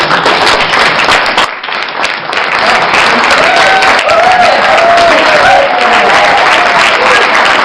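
A conference audience breaks into loud, sustained applause for the trainers at an inclusion leaders event in Copenhagen, a dense wash of clapping that dips briefly and then swells again, with faint voices underneath.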